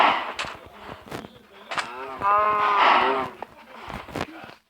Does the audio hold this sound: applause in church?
no